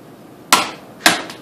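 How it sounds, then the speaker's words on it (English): Two sharp metallic clicks from a torque wrench tightening an AR-15 barrel nut, close and loud, about half a second apart, with a faint trailing tap after the second. "Flip the direction of my torque wrench. And back to 40 pounds."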